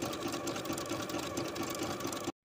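A sewing machine stitches knit fabric with a stretch stitch, giving a steady, close, rhythmic whirring hum that runs for about two seconds and then stops abruptly.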